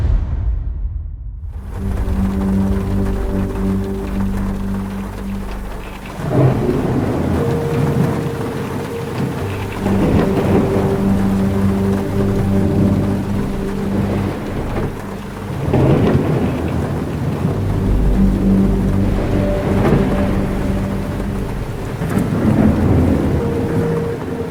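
Thunderstorm at night with steady heavy rain and repeated low rolling thunder rumbles, loud and continuous throughout with no voices.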